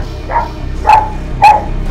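A frightened dog, just escaped from a leopard attack, gives three sharp barks, one softer then two loud, spaced under a second apart, close by over a low background.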